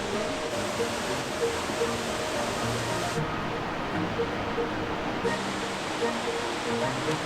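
A waterfall on a hike in Sweden roars as a constant, even rush of falling water close by, while people talk quietly over the steady noise.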